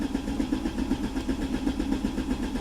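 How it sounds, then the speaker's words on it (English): A car engine cranks on the starter during a compression test, a rapid rhythmic churning with a steady low hum, continuous and fairly loud without talk. "Crank the engine for 10 seconds or until test is completed."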